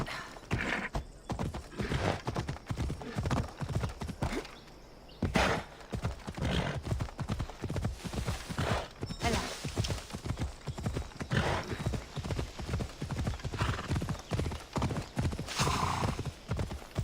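Horse Phobos gallops in Assassin's Creed Odyssey, a steady, loud rhythm of hoof clip-clops running throughout, broken by a brief whinny, with game ambience behind.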